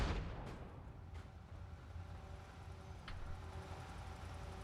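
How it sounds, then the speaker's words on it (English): A grenade blast in a modded Fallout 4 session hits sharply at the start, then a long, dull rumble fades out under a low background hum. "that's a fucking grenade."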